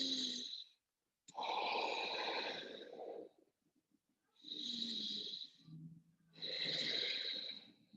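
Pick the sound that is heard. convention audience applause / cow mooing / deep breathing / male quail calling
deep breathing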